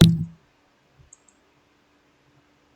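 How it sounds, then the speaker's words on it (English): A single close computer mouse click sounds at the very start, followed by near silence with a couple of tiny ticks. "Then we click on this. And then we click convert."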